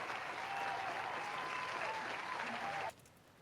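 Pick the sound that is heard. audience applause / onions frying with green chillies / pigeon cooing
audience applause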